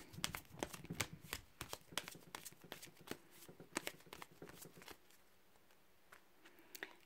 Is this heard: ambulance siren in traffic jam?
no